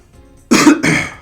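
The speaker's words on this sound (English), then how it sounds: "Cough." A person coughs twice close to the microphone in a quiet room. The two harsh coughs come in quick succession.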